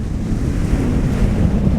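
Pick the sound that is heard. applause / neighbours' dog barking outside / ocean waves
ocean waves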